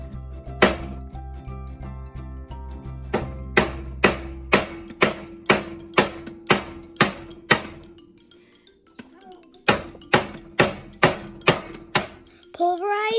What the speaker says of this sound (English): You have to crush up your dry ice so it's a fine powder.